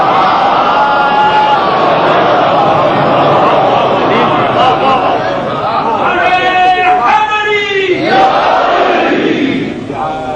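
A gathered congregation at a majlis loudly recites salawat together, a dense chorus of many voices in unison, swelling into a sustained chanted phrase near the end.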